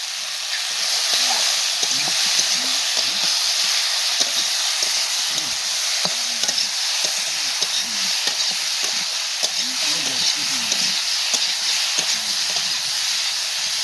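Green chillies are stirred and sautéed in a pan for a fish-and-potato curry, giving a steady sizzle and hiss throughout, with repeated scraping spoon strokes close up and no talk.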